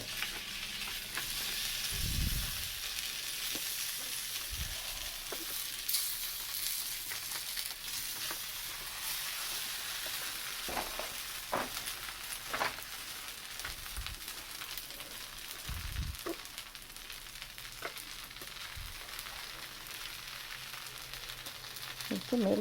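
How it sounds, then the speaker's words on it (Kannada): A roti cooks on a hot griddle pan with a steady, soft sizzle throughout, broken by occasional faint taps and scrapes, close by and with almost no talk. "ಈಗ ಇದನ್ನು ಹೆಂಚ ಮೇಲೆ ಸುಡ್ತೀವಿ."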